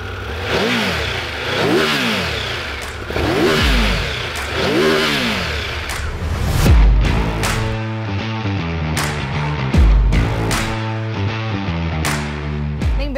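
A Triumph Tiger 1200 motorcycle engine turns over and settles into a close idle, then is blipped repeatedly in sharp, rising revs, with clattering mechanical noise between throttle bursts.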